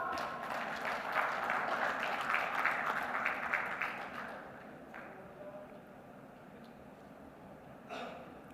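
An audience at a maritime industry event claps for about four seconds, then the applause fades out, leaving quiet room tone and a brief burst near the end.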